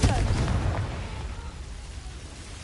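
A Confringo blasting curse cast in Hogwarts Legacy: a loud booming blast at the start that rumbles and fades out over about two seconds.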